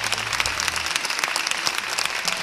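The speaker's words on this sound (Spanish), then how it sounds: "Recibamos con un fortísimo aplauso a Uta Geu." Applause from a TV studio audience welcoming a guest on a Spanish talk show, brisk and continuous clapping from a sizeable crowd with a brief low murmur at the start.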